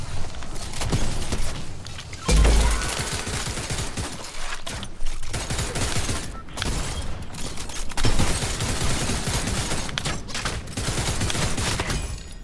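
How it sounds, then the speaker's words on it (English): A minigun firing in a video game, with long continuous bursts of rapid gunfire that come loud and dense, separated by short gaps and overlapping booms and mechanical clatter. "I have a mini gun."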